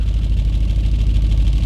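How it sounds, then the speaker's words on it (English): An Audi B7 RS4 with a modified exhaust idles just after starting, giving a steady, loud, deep engine rumble with an even low pulse and no voices. "I just started the car up"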